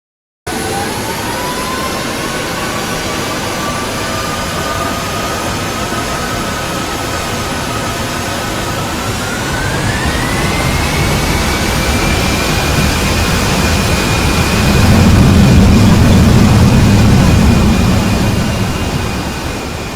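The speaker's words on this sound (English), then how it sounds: "the plane moved from the apron to the runway and prepared to take off" A passenger airliner's jet engines whine steadily as it taxis from the apron to the runway, then spool up in pitch and swell into a louder, broader roar for the takeoff run.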